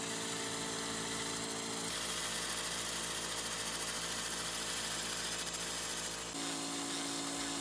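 A 200W pulsed laser cleaning machine in revolve mode stripping mill scale from steel, giving a steady electric buzz that starts, holds for several seconds, then stops.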